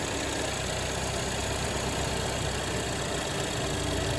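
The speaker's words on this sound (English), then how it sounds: "So now we're going to crank it up and add fluid." A Chevrolet Equinox engine runs at a steady idle after being cranked during a transmission fluid change, a constant close mechanical hum and rumble without talk.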